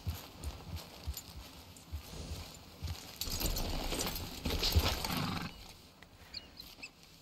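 Horse hooves clip-clopping in Red Dead Redemption 2, a steady run of soft low thuds beneath a busy ambient game bed that swells in the middle, with a faint whinny-like cry.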